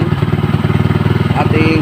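A Kawasaki Z200 motorcycle engine runs with a rapid, throbbing pulse, loud and close, holding a fairly even beat throughout.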